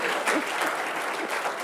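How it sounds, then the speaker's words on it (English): Keynote audience at a security conference breaks into brief clapping after a live demo, a short burst of applause with a faint voice mixed in. "A round of applause."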